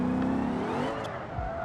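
Race car engine in a racing video game revving hard under heavy throttle, a loud sustained whine that rises and then dips, with a brief low drop near the end and no talking.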